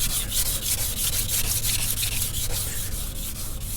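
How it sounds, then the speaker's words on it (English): Steady wet sanding of car paint by hand with 400-grit sandpaper on a 1986 Chevy Monte Carlo, a rhythmic back-and-forth rasping scrub, close and continuous with no talking. "the overspray coming up real easy with this wet sanding with 400"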